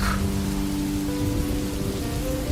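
Steady rain sound effect in a podcast, a dense constant hiss of falling rain with a faint low rumble underneath, even in level and without talk.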